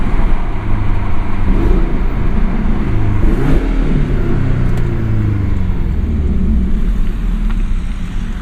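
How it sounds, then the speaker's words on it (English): A deep, bassy exhaust from an MTM-tuned 2017 Porsche 718 Boxster S PDK roars loudly and steadily up close, rising and falling in pitch as the engine revs, with no voices. "the exhaust has a lot more bass to it. It's a much fuller sound."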